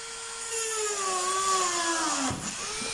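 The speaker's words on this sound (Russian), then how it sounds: "Так, сверло держу именно перпендикулярно, чтобы не ушел наискосок, не ушло наискосок отверстие." A small high-pitched drill bores a hole into a piece of amber, a steady whining tone that dips in pitch near the end as the bit bites, close and continuous with no talking.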